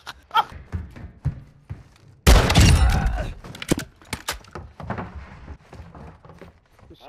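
A scoped shotgun fires in a video game with one loud, booming blast, followed by scattered thuds, clicks and footsteps of play.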